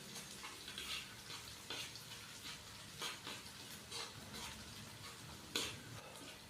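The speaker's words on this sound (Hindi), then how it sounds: "अदरक और लहसुन के पेस्ट को हल्का सा फ्राई करेंगे ताकि इसका कच्चापन खत्म हो जाए।" Ginger and garlic paste fries lightly in a pan while cooking bhuni moong daal, a soft, steady sizzle with faint crackles and occasional stirring scrapes, quiet and without talk.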